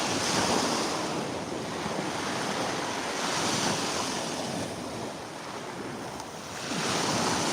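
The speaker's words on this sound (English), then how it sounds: "Such a beautiful day for a beach walk." Ocean waves washing onto a beach during a walk on a sunny day, a steady broad roar of surf with slow swells, mixed with gusty wind rumbling against the microphone, no talking.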